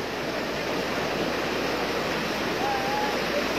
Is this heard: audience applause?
no